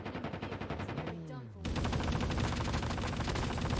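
Kilo 141 assault rifle in Call of Duty Mobile fires rapid, evenly spaced bursts of gunshots, pausing briefly with a falling tone before a dense, loud volley resumes.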